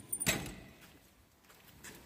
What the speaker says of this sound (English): A really loud door.